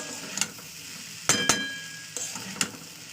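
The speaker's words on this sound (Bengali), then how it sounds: "আমি ডালের সঙ্গে সমস্ত মশলা প্রায় পাঁচ মিনিট ধরে কষিয়ে নিলাম" Steady sizzling of lentils frying with spices in a pan, broken by a few sharp scraping and clinking strokes from a utensil.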